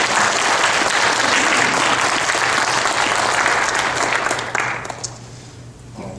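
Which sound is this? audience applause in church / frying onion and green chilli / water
audience applause in church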